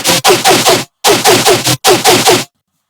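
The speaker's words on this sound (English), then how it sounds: "that creates that detuned sound, noisy type sound" A harsh, gritty detuned Serum dubstep synth bass in three rhythmic bursts of stuttering pulses, loud and noisy, with abrupt silences between phrases.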